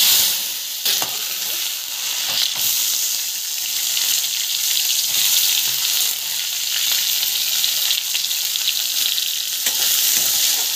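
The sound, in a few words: sautéing mustard seeds, cumin and chana dal in oil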